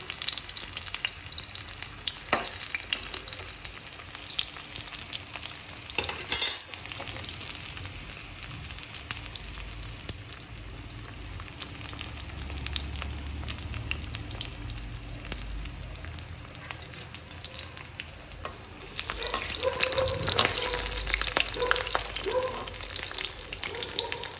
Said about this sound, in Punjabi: ਇਹਨਾਂ ਨੂੰ ਹੁਣ ਅਸੀਂ ਇਸ ਤਰ੍ਹਾਂ ਫਰਾਈ ਕਰ ਲਵਾਂਗੇ